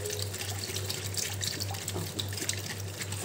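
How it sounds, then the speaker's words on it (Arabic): Milk is poured into a pot while making custard, giving a steady close liquid splashing and trickling sound for a few seconds with no talk over it. "نحط اللبن"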